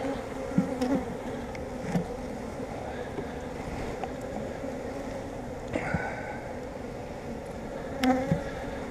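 A constant buzzing hum of many bees fills the air around a hive, with occasional soft knocks and clicks close by.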